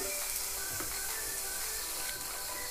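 Green chillies sizzle in a pan over a medium flame for chicken bread roll filling: a steady, close crackling hiss runs unbroken throughout with no voices.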